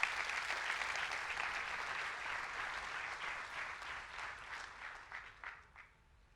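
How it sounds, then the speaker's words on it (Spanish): Church congregation applauding together, a dense steady wash of many hands clapping that gradually thins out and fades over several seconds, with no voices over it. "Denle un fuerte aplauso a Dios por eso."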